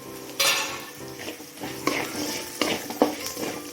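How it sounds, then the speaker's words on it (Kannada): Mustard seeds frying in a hot pan for a sprouted green gram dish, with a steady sizzle and bursts of crackling as a spoon scrapes and clinks against the pan, close and loud, with no talking. "ಹೀಗೆ ಫ್ರೈ ಆಗಲಿ ಹಾಗೆ ಸ್ವಲ್ಪ ಸಾಸಿವೆನೇ ಆ್ಯಡ್ ಇದ್ದೀನಿ"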